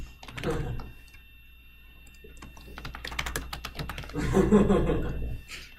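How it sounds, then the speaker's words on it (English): Someone types on a computer keyboard, irregular bursts of crisp, close key clicks and clacks with brief pauses, heavier and denser toward the end, and a voice murmurs in places. "now I can't see what I'm typing"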